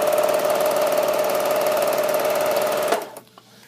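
Pfaff Classic Style sewing machine running a straight stitch, a fast steady mechanical whir with a constant hum that stops abruptly near the end, close and alone without talking.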